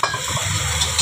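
Cleaned dried shrimp (sukat) sizzling and crackling in a hot pan, a steady close frying hiss with small pops, no voices.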